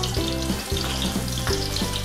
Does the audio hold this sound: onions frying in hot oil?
yes